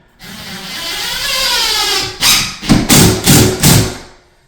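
A power drill drives a screw at an angle into wood blocking behind drywall until the head sits countersunk: a steady whine for about two seconds, then several loud, close bursts as the screw bites and seats.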